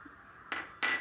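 A clay cooking pot is set down on a stove, making two short, dull knocks close by in an otherwise quiet kitchen.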